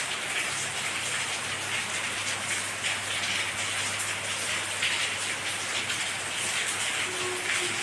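Rain falls steadily on a green, leafy morning, a dense continuous patter of drops on surfaces at moderate level, unbroken for the whole stretch with a low steady hum beneath and no voices.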